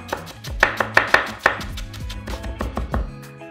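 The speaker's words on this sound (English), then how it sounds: "We're just going to roll it over itself and then just chop it." A knife chops a rolled bunch of fresh dill on a board in a quick run of about a dozen crisp, evenly spaced chops that soften toward the end, close up and with no voices.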